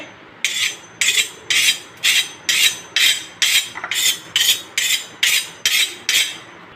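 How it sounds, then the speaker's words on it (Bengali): Dry-roasted spices ground by hand, heard as about a dozen steady, evenly spaced rasping strokes that are close and clear with nothing else over them. "এই শুকনো খোলায় ভেজে নিলাম মশলাটা, এটা আমি বেটে নিচ্ছি।"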